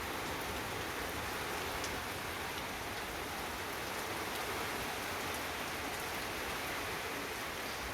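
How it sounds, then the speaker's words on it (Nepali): Rain drumming on a tin roof in a hillside village, a dense, steady, even patter filling the whole stretch with no voices. "पानीको आवाज टिनमा ठोक्किँदा कति आनन्दको सुन"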